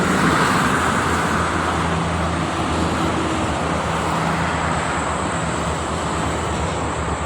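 Steady roadway noise from traffic on the Jakarta-Cikampek toll road during a busy morning, a continuous broadband rush of passing vehicles with a low engine rumble, fairly loud and unbroken throughout with no talking.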